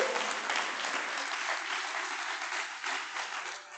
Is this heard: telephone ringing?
no